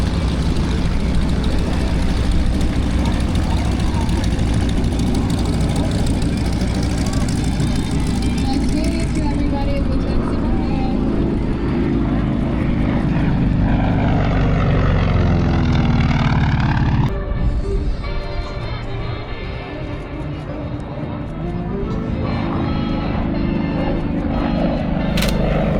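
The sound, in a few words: propeller warbird airplane flying at airshow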